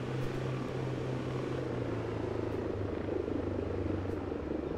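Helicopter in the video game Arma 3, a constant loud rotor and engine drone with a steady low thrum running throughout, no talk over it.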